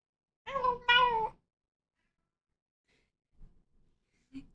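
A cat gives two drawn-out meows close by, followed by quiet pauses and a few faint, brief sounds.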